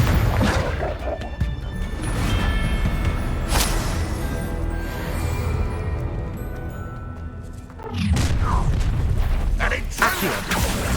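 Crackling, roaring blasts of the Confringo fire spell in Hogwarts Legacy on PC burst out loudly in a dense stretch of combat, with a second strong eruption near the end over continuous game noise.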